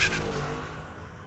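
A 2015 Chevy Tahoe and a Mustang launch in a drag race, a brief burst of engine roar that quickly fades into a steady, distant whir.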